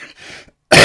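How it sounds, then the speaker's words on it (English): A man clears his throat and coughs close to the microphone, a rough rasp followed by a sudden loud burst. "Sorry about this cough."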